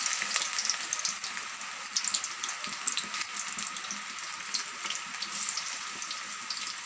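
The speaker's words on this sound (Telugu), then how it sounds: "ఇప్పుడు పకోడీలు వేసుకుందాం." Onion pakoras bubble and crackle in hot oil with a steady, dense sizzle that carries close and loud the whole time, with no voices over it.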